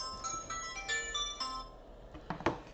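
A phone ringtone plays a repeating melodic electronic chime pattern, several short tonal bursts in rhythm, followed by a brief clatter near the end.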